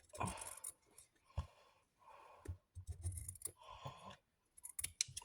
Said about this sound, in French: Prenez des ciseaux à tissu, ça coupe nettement mieux pour tout ça.